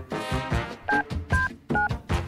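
Phone keypad dialing tones beep in a quick sequence of separate presses, loud and close, with no talking over them.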